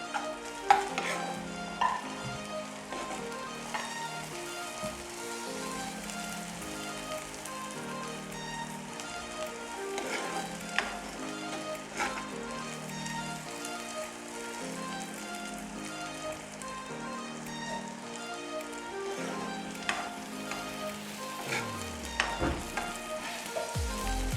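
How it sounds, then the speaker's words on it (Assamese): Rajma masala with garlic paste and cashews is stirred as it fries in a pan, with a spoon scraping and a steady sizzle running beneath a continuous, busy background. "তাৰপাছত মই এতিয়া ভালদৰে লৰাই ল'ম"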